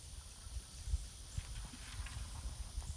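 Horse hooves in a dressage lesson striking the arena footing at a jog, a steady run of soft low thuds close by with no talk over them.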